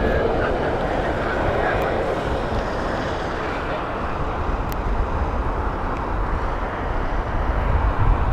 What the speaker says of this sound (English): right above us we have an aircraft which I think is the 747